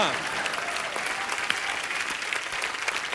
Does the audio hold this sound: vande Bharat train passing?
no